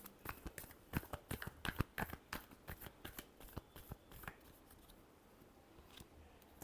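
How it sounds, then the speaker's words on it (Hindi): Tarot cards are shuffled in a quick run of crisp, riffling slaps and flicks, close and fairly quiet, easing off toward the end with no voices. "last shuffle"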